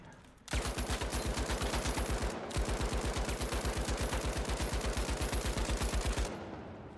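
Lewis gun from The Finals firing in two long sustained bursts of rapid, evenly spaced automatic shots, loud and close, with a brief pause between them.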